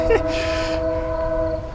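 A passing train sounds its horn in a loud, steady sustained blast with layered tones over a rumbling background, heard outdoors near water.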